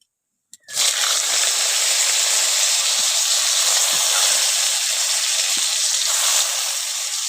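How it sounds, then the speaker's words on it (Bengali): Chopped potatoes frying in hot spice tempering in a pan: after a brief click, a loud, steady broadband sizzle starts and holds for about seven seconds, close and alone with no talk. "এখন ফোড়নটা ভাজা হয়ে গেছে, ওর মধ্যে আলু কুচিগুলো দিয়ে দিচ্ছি।"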